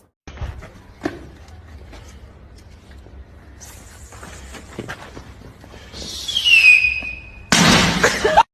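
Sharp crackling pops of Diwali firecrackers scattered through quiet, then a rising whistle of a rocket followed by a loud burst of crackling explosions near the end.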